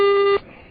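A single sustained electronic beep from a car sounds clearly, a bright steady tone that holds for about a third of a second and then cuts off.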